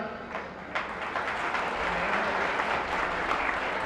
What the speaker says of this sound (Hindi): आलोक जी ने मुझे यहां आमंत्रित किया, तो इसके लिए आलोक जी के लिए तालियां।